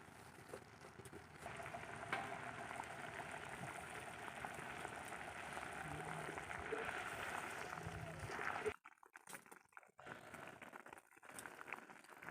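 Semolina rasgulla boiling in sugar syrup, a steady soft bubbling and sizzling that runs for several seconds before giving way to quieter handling sounds.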